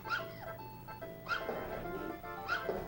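Puppies yip and bark in the video game Earthworm Jim 2 as three short high calls at an even pace, set against tinkling game music.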